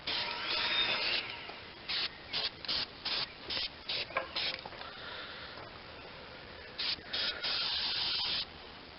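An aerosol can sprays paint onto an antique screw jack, starting with a longer burst, then a run of short regular bursts and a few more near the end.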